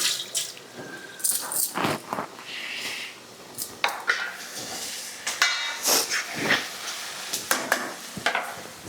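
A pressure cooker for rice hisses and sputters steam in irregular bursts, with watery bubbling and dripping sounds in between, close and fairly quiet with no talking.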